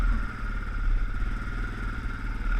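An ATV in four-wheel drive crawls over rough, rocky terrain with a steady, moderately loud engine drone under a faint rhythmic clatter, holding an even throttle.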